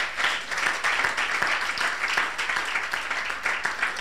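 An audience at an International Day of the Girl event claps steadily, a dense, moderately loud applause from many hands with slight pulsing swells throughout.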